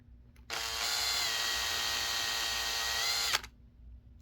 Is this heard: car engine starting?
no